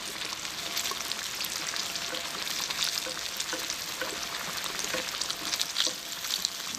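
Fish shallow frying in a pan of oil gives a steady, close, bright sizzle with crackling pops throughout, no talking over it.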